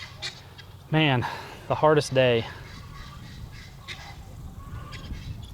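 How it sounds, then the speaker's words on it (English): Several loud honks from geese nearby on a farm, a short burst then a quick series, with someone speaking briefly afterward over low background noise. "Geese honking."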